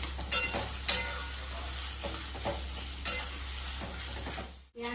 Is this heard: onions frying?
yes